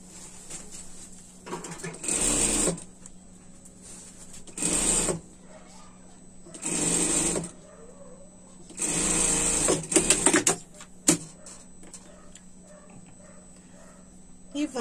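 Sewing machine joins a sleeve onto a pet's winter dress with several short stitching bursts of a second or two, separated by pauses and brief talk, close and moderately loud.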